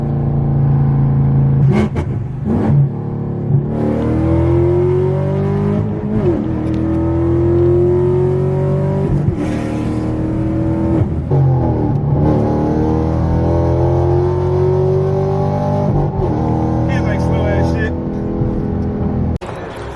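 A 2018 Camaro SS V8 on an E85 tune revs up repeatedly, rising and falling in pitch with a deep throaty roar, loud and close, with brief breaks between pulls.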